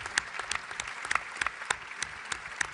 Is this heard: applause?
yes